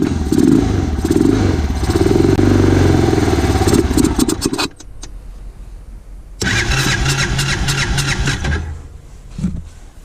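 An engine sprayed with starting fluid cranks and catches with a loud, rough, clattering roar, cuts out briefly, then fires again and runs unevenly, close by, with no talk.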